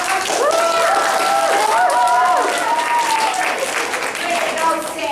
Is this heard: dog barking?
no